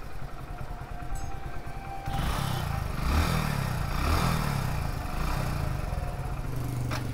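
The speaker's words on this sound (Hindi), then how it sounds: "बाइक हम लोग का एकदम झकास स्टार्ट हो रहा है।" A Hero Splendor BS6 motorcycle engine starts and idles nearby, a steady close mechanical chug with clattery low rumble that rises after a quieter opening and holds through the rest.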